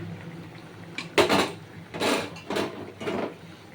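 Paneer pieces are tipped into a pan of ghee for a paneer and potato curry, heard as several separate bursts of rattling, clattering pours and scraping against the metal over a faint hiss.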